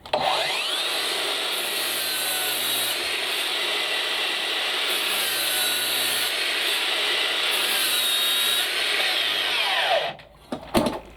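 Makita DLS111 36V mitre saw with a 24-tooth blade cutting through 100 by 80 wood, a loud sustained whining cut lasting about ten seconds, then the motor spinning down with a few clatters.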